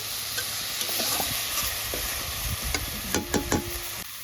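Ginger garlic paste hitting hot oil in a pan for a prawn malaikari, a constant close sizzle with a few spoon scrapes and taps against the pan near the end.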